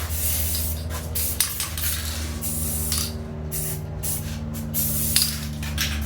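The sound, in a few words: spray painting a putty knife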